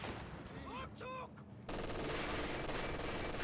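MG42 machine gun fire in the strategy game Company of Heroes 2, heard as a dense continuous rattling burst through a game mix, preceded by quieter battle sounds and scattered whistling effects.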